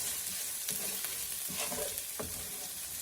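Onions and garlic frying in a pan, the browned onions stirred with a spatula: steady close sizzle with a few scraping strokes across the pan, no voices.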